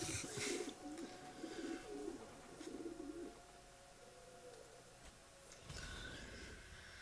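Pigeons cooing at a dovecote in Assassin's Creed 2, several soft rhythmic coos repeating over the first few seconds, then a quieter ambient hum and a brief rustle near the end, no voices.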